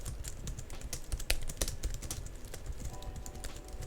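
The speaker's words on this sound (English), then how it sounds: "The sound is also quite nice, I find, for a low profile keyboard like this." Rapid, uneven key clicks from typing on a Logitech MX low-profile keyboard, close and steady, with a few sharper louder strokes and no voices.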